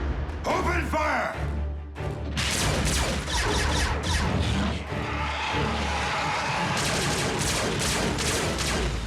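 A cartoon gunfire barrage from an animated Transformers battle erupts in dense, rapid volleys of energy blasts and crashes, loud and continuous after a short lead-in with a voice.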